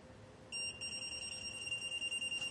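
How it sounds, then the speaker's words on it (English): A pocket-size combustible gas leak detector sounds a high, rapid pulsing beep when exposed to gas, starting suddenly and continuing, close and fairly loud. "You can hear the instantaneous response. It beeps and lights up at you"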